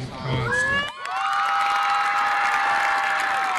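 A graduation audience claps and cheers for a disabled teen receiving his diploma, a loud sustained wash of applause with whoops and children shouting from a large crowd, with a voice heard briefly beforehand.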